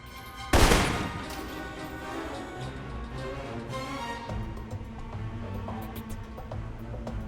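One loud rifle shot cracks during Alpha Protocol marksmanship training, followed by a faint, steady low ambient hum with small ticks.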